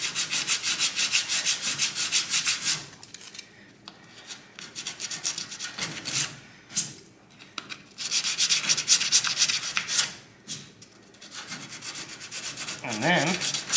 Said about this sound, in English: fold it in half, put it in the seam, just start sanding. Sand all the Bondo off each edge